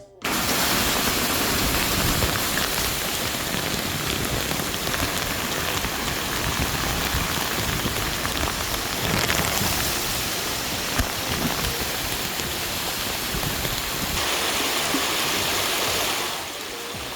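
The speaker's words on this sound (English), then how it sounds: "immediately after that we got 20 mil of rain in about an hour" Heavy rain pouring down in a backyard, a dense, constant roaring hiss of drops on surfaces that stays loud and even for the whole stretch.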